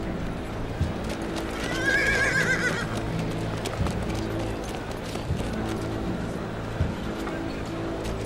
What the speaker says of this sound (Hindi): घोड़ा लेकर आओ मेरा।